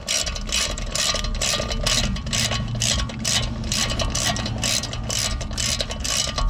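A ratchet on an extension tightens a bolt during a BMW 128i or 335i brake upgrade, giving rapid, steady pawl clicking in even bursts, close and clear, with no talk.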